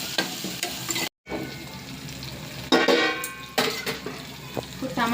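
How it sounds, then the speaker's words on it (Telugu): Chopped tomatoes with salt sizzle and fry in a pan for gram-flour chutney, a steady hiss with occasional stirring scrapes and utensil clinks, close and fairly loud. "తరిగి ఉంచుకుని టమాటాలు పైన కొంచెం సాల్ట్ వేస్తే బేగా టమాటాలు మగ్గిపోతాయి."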